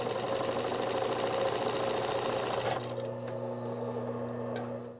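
A sewing machine stitches teddy bear fur in a fast steady whirr, close and even, then slows to a lighter rattle with a few sharp clicks near the end.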